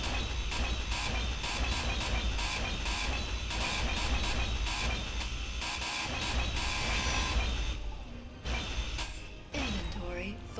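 A grinder cuts through blocks in the space-building game Space Engineers, a loud, steady mechanical rasping with rapid repetitive pulses that runs continuously, briefly dropping off near the end amid clanking.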